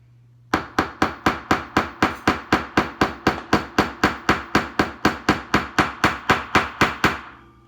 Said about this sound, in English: Just using the rounded end of my planishing hammer, I'm going to start forging.